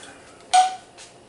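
Glass canning jars being set into a canning pot, heard as one sharp clink followed by a softer second knock, close and brief in a quiet room.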